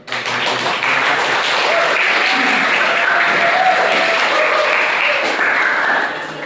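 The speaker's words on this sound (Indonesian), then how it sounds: "kita aplaus dulu buat" Applause from students in a university agrarian sociology classroom, a dense, continuous burst of clapping from many hands lasting several seconds before fading at the end.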